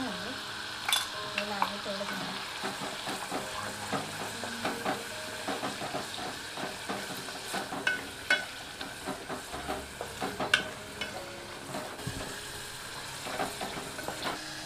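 Coconut, chili and coriander paste frying for a tempering, with a steady sizzle and the scrape of stirring throughout, close and moderately loud, no talk.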